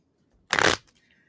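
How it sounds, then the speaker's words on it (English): A deck of cards is riffled in one quick burst of crisp, fluttering clatter, loud and close, followed by a faint tail of noise. "Give it a shuffle"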